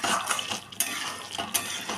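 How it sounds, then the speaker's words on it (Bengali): Dudh potol, a milky pointed-gourd dish with ghee, being stirred and mixed in a pan, with steady scraping and clinking of a utensil and a few sharper knocks against the metal. "মিশিয়ে নিচ্ছি।"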